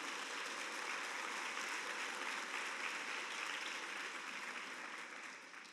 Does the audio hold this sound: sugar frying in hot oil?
no